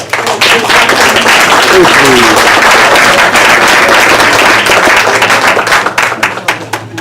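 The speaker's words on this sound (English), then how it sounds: "let's also have some applause for Lee Brokaw" An audience at a Q&A session with Norm Stamper breaks into loud applause, many hands clapping together in a steady, close wash that starts abruptly and tapers slightly at the end.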